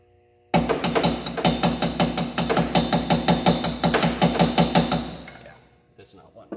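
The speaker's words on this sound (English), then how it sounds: "Hammer wrench." A hammer wrench is struck repeatedly against a transfer case mount bolt on an M35 truck, giving a steady run of about twenty loud, close metallic blows that ring briefly and stop near the end.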